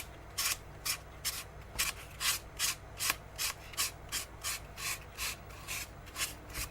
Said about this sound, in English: I just want to clean up my sanding marks